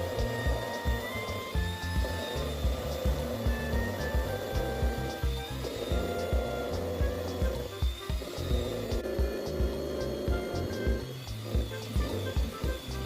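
An electric hand beater with seven speeds runs on its lowest setting while whipping cream for cake frosting, giving a steady, close motor whir with a regular rhythmic rattle from the beaters throughout.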